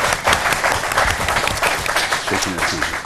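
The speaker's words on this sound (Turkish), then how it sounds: "Alkışlarınızla Orhan Kalem abime de şöyle canı gönülden büyük bir alkış" Enthusiastic audience applause for a community representative at a Turkish diaspora gathering, dense and close, with voices mixed in amid the clapping throughout.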